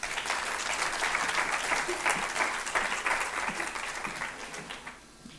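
An audience breaks into sustained applause for speaker Laurent Leduc at the opening session of a conference, a steady wash of clapping from many hands that fades slightly near the end.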